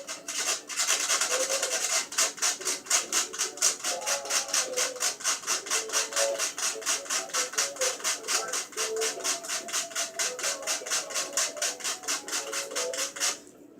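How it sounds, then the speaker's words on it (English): Cinnamon stick grated by hand in a steady, fast rasping rhythm of repeated scraping strokes, close and fairly loud, running continuously with no talk. "And you just grate through it in there."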